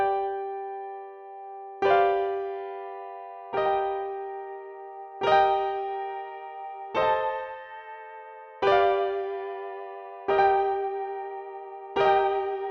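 Keyboard with a modulation effect plays a song as a slow series of evenly spaced chords, each struck clearly then shimmering and decaying before the next, with no talking.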